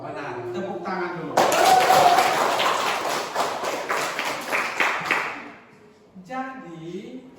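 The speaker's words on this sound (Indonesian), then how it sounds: "Tepuk tangan dulu." A classroom of students bursts into dense, close applause for about four seconds, then fades, with a teacher speaking just before and after.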